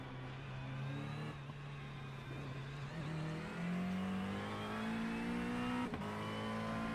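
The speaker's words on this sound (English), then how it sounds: "Good strong exit by the Ferrari there" Ferrari race car powering out of the chicane at Suzuka during a World Challenge race, its engine note climbing steadily in pitch as it accelerates hard, loud and continuous with no other voices.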